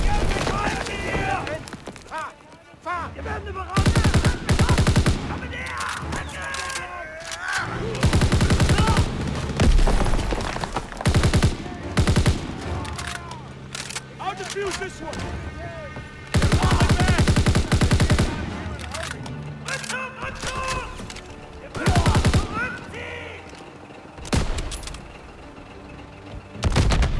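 Dense gunfire and explosions fill a Call of Duty WWII battle on the Rhine, with sustained bursts of automatic fire, heavy booms and long loud stretches broken by brief lulls.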